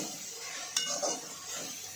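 Ginger, garlic and tomatoes sizzling as they roast in a pan for dal fry, a soft steady hiss with a couple of sharp utensil clinks against the pan.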